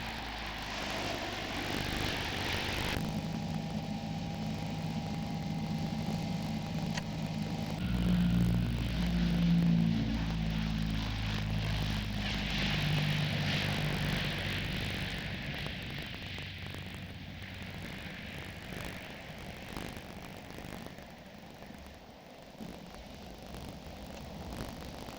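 Hercules propeller aircraft engines drone in a steady, loud hum with a sustained low tonal throb, building and swelling midway before settling back to a continuous roar.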